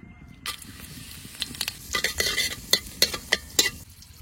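Dried red chilies and cumin seeds dropped into hot fish oil in a home kitchen, crackling and sizzling in a string of sharp pops, with stirring and the clink of a spatula against the pan.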